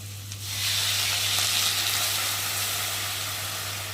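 Water poured onto a fried spice paste in a crab curry pan, bursting into a loud, close hiss and sizzle that swells quickly and holds steady for several seconds.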